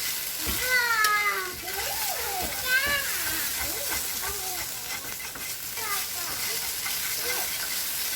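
Butter melting in a pan for a beef pot pie gravy gives a steady soft sizzle throughout, with a person talking over it and a few high meow-like squeaks.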